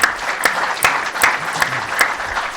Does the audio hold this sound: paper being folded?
no